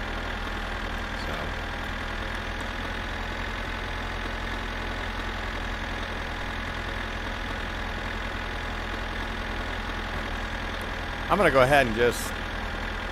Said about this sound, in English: it's still a slow tractor